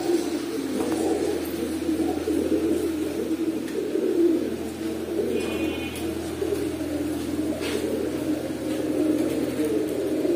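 Huma Dobaj pigeons coo continuously in a loft, soft overlapping throaty calls over a low steady background hum, with no talking.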